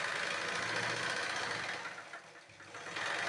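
A sewing machine stitches a blouse lining along a marked line, running as a steady close mechanical whir that dips briefly near the end before picking back up.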